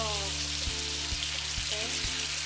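Pasta water hits a hot pan of meaty spaghetti sauce, producing a loud, continuous close sizzle and frying hiss with a few soft clinks of stirring.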